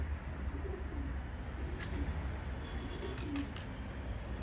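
An Arap takkalı pigeon, a young unmated female, coos softly in a few short calls over steady background noise.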